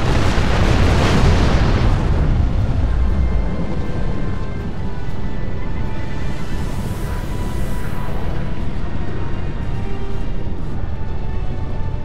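A dreadnought blowing apart in a space combat game: a loud, sustained explosion with a heavy rumbling low end and crackling bursts that rolls on for several seconds, no talk over it.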